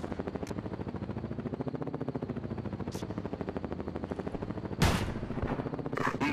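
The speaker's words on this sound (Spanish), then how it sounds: "Un disparo genial, capitán." Rapid automatic gunfire from the video game Ghost Recon Advanced Warfighter 2 rattles on continuously at close range, with a louder burst near the end and a few sharp higher cracks over the steady stream.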